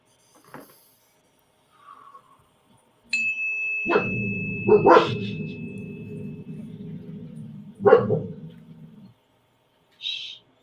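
A pet dog barks a few times at close range during a calm guided meditation, the loud sharp bursts spread across several seconds against a quiet room, with a soft chime ringing briefly near the end.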